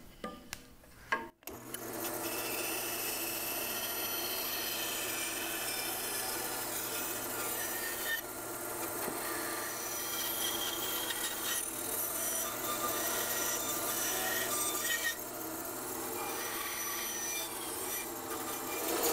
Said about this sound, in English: Let's head over to the bandsaw.